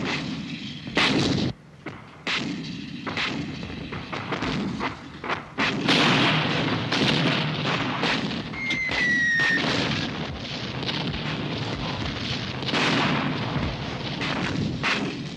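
Artillery firing for effect in a wooded area, a dense continuous rumble of heavy booms and blasts overlapping one another at a distance, sustained and loud throughout.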